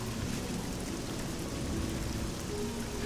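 Steady rain falling in Elder Scrolls Oblivion, a continuous even hiss of drops pattering on surfaces, soft and unbroken with no voices.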